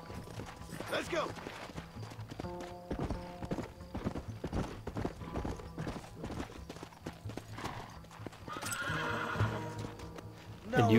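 In the video game Red Dead Redemption, rapid hoofbeats clatter continuously while horses whinny at intervals, with voices talking over the galloping.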